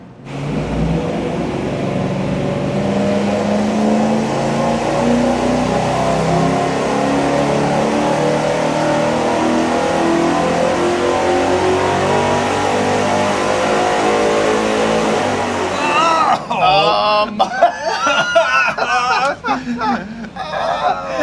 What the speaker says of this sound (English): Here we go with our first test with that Y-shaped merge and the single 3-inch exhaust.